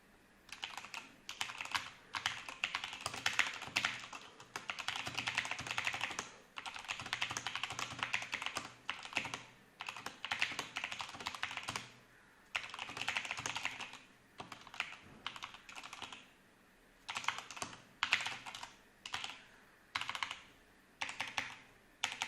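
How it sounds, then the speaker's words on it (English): Fast bursts of typing clatter from an affordable $35 linear-switch mechanical keyboard with a foam pad, close and clean, with short pauses between flurries of keystrokes. "It is what you would expect from a linear switch keyboard"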